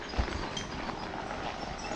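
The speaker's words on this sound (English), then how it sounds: "He's bringing the Percherons back to the barn." Percheron draft horses walk on a farm, their hooves clip-clopping in an irregular run of soft, muffled steps at moderate distance, with one heavier thud near the start.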